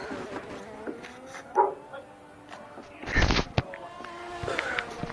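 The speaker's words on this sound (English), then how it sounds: "A barking dog." A pet dog barks a few times indoors, moderately close, with sharp yips and a whimper heard against a background of racing-game engine noise during an F1 22 league broadcast.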